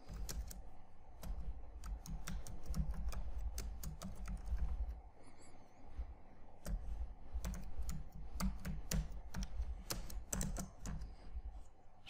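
A change-directory command being entered on a computer keyboard, fast irregular runs of crisp key clicks with a brief pause midway, close and fairly quiet over a low steady hum.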